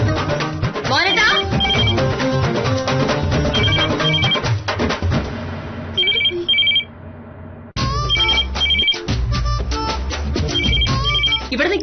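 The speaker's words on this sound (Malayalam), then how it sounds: "ഈ ഫോൺ അടിക്കുന്ന മോഹനേട്ട കേട്ടൂടെ?" A telephone rings repeatedly in a home setting, its electronic tone recurring in bursts under music and voices.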